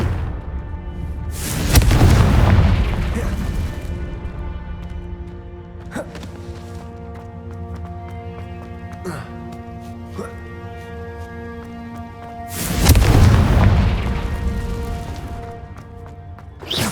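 Two heavy booming blasts of the Confringo explosive spell in Hogwarts Legacy, each rolling out over a couple of seconds, with a sustained musical score and scattered impacts in between.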